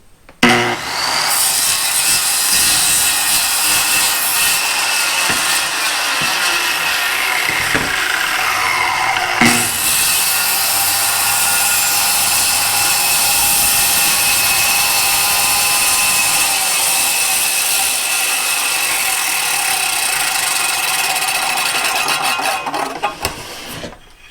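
A power saw makes an angled plunge cut into wood, a loud continuous whining buzz running for over twenty seconds with a brief change in pitch partway, ending abruptly.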